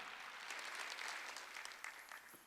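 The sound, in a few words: congregation applause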